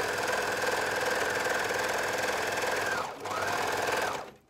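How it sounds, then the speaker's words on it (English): A sewing machine runs a long continuous stitch up a garment sleeve toward the underarm seam, pausing briefly before resuming in a second short burst, steady and close. "sewing up to that underarm seam"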